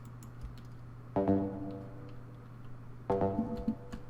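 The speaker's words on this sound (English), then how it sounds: "this kind of like accent synth, which is also made in Helm, and it sounds like this" Two short synth phrases from a Helm synth preset sound, each a quick bright burst of stacked tones that fades, separated by a pause, fairly quiet with light clicks around them.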